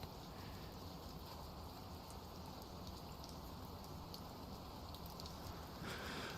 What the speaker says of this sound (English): Sounds like raining. Yes, it's just calm raining in the background.